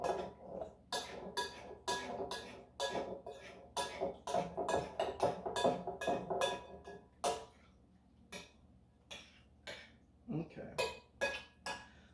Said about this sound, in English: we have to stir in the onions also